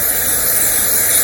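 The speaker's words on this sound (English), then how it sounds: "So this doesn't really need cleaning, but I'll go ahead and spray it anyway" Spray cleaner blasting onto a Briggs & Stratton plastic carburetor, a short, loud, steady hiss of aerosol spray up close, alone without talk.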